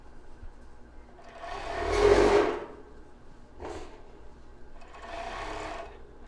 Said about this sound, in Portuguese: Passar a costura aqui para unir os lados.